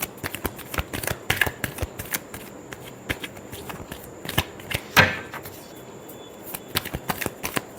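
A deck of tarot cards is shuffled close by, with quick papery riffles and flicks in an irregular rhythm and a few louder snaps among soft rustling.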